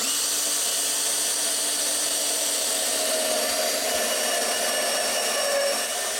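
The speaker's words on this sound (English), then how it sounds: "We're gonna take our drill and we're gonna make a hole over here closer to the driver." A power drill runs steadily for about six seconds, whining as it bores a hole through interior trim inside an Infiniti Q50 car, loud and continuous with no talk.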